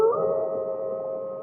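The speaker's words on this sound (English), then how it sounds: "she heard the first distant howl." A distant, sustained canine howl used as a spooky Halloween sound effect, a single smooth tonal wail holding steady and slowly fading, alone with no voices over it.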